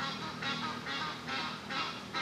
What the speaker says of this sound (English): That and the geese chatting up.